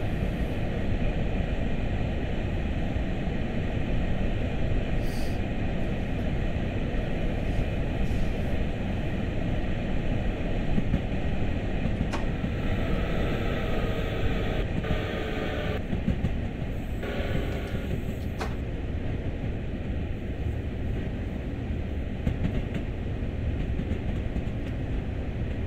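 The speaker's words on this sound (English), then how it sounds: "this is a Long Island Railroad M7." A Long Island Rail Road M7 electric train in the Train Sim World video game gives a steady rumbling roll with a low motor hum. Faint clicks and brief whining tones come and go over about 25 seconds, with no speech.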